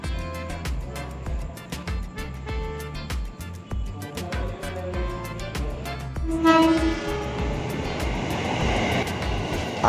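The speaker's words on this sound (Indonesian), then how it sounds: "Ada KRL dari arah Manggarai tujuan Jakarta Kota yang melintas di stasiun Gambir" A KRL commuter train from Manggarai bound for Jakarta Kota passes through Gambir station in Jakarta, with rhythmic wheel clatter over rail joints, a rising rumble and screech as it nears, and a brief horn.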